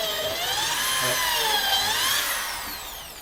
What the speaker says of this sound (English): So the first time Mark's using a drill on the boat, he's been very anxious about this.